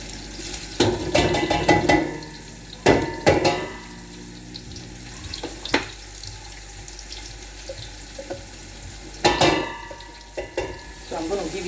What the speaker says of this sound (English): so I'm going to give it a stir.